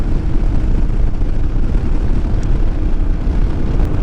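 Royal Enfield Himalayan motorcycle engine pulling on a flat road, a steady, loud droning roar blended with heavy wind rush that holds without a break and has no speech over it.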